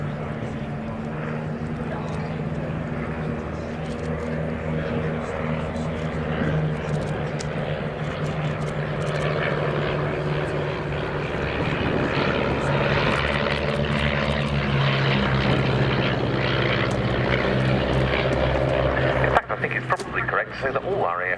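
A pair of 145-horsepower de Havilland DHC-1 Chipmunk trainers flying in formation at RAF Cosford give a steady, droning propeller-engine hum throughout, with a commentator talking over it.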